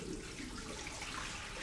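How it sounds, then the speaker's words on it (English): Water pours steadily out of a glass mason jar, making a faint, continuous splashing rush that lasts the whole stretch, with no voices. "I can just get rid of the water."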